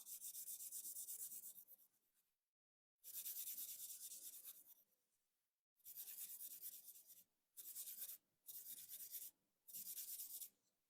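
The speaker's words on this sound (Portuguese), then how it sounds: "Aqui e aqui eu vou lixar aqui e aqui" A nail file rasps steadily across fibreglass nails in long back-and-forth strokes, close and soft, broken into several bursts separated by brief silences, the later strokes shorter and quicker.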